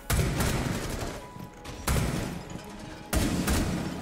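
Three bursts of rapid automatic gunfire from Blackbeard's rifle in Rainbow Six Siege, each a loud, dense rattling volley lasting about a second, separated by short pauses, close and dominant with no voices over it.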